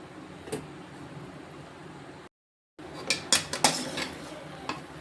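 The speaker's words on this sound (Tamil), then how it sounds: "இது எல்லாமே இது படுற மாதிரி கிண்டி விட்டுக்குவோம்" Chapati noodles being stirred in a wide cooking pot, with metal utensil scrapes and clinks against the pot, a few sharper knocks clustered near the end, around a brief silent gap.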